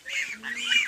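A king duck gives two or three short, nasal honking calls close by, each rising and falling quickly, with a faint low tone underneath.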